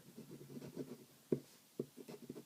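Fine-nib Sheaffer 100 fountain pen scratching across paper in a quiet room, a run of soft close strokes with a few sharper scratches standing out.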